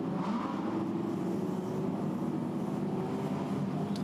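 A number 10 Audi GT race car during qualifying at Monza, its engine a steady, fairly distant drone with a faint rising rev near the start, heard alone without talk.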